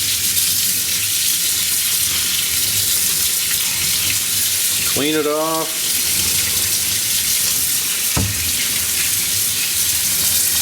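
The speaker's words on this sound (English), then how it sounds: "If you don't, just let the water run, you know, normally like so." Tap water runs steadily over an arcade monitor chassis being cleaned in a sink, a constant hiss of flow with a brief clatter midway, and a voice speaks over it.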